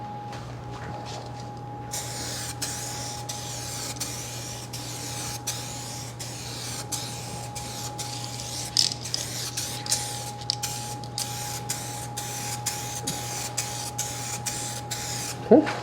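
A spray gun lays a second coat of paint onto an older vehicle in the evening, giving repeated short hissing bursts over a constant droning hum.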